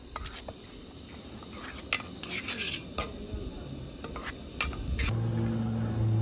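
Bombay rava being fried in ghee in a pan, heard as repeated sharp metallic clinks and scrapes of a spoon against the pan, with a faint sizzle underneath and a brief hum near the end.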